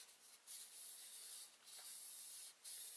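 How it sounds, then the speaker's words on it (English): Faint, steady scratchy rubbing of sandpaper on a Class 86 model locomotive, a few strokes with brief pauses between them, close and quiet with no talking. "it's a bit of the old sandpaper, just gently rubbing this down"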